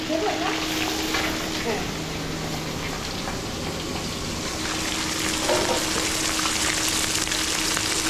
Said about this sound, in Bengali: এখন চলছে কাতলা মাছ ভাজা।